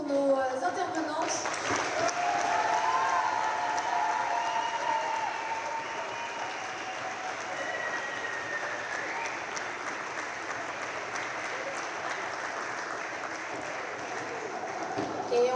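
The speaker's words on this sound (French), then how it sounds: "encore un tonnerre d'applaudissements pour nos intervenantes" Sustained applause from the audience closing a round-table panel on women in sport, a dense steady wash of clapping hands lasting throughout, with some voices mixed in underneath.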